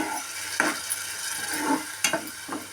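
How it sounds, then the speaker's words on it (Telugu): Tomato puree is stirred into a munakkaya (drumstick) curry in a pan: a few scraping spoon strokes over a gentle sizzle, close and moderately loud, with no voices. "మొత్తం అంతా కలిసే విధంగా కలుపుకోవాలి"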